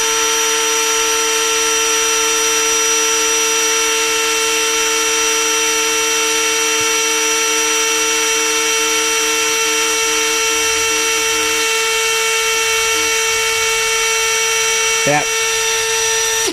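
A Dremel rotary tool rated at 30,000 RPM spins at full speed, giving a steady, loud high-pitched whine with a brief blip just before the end.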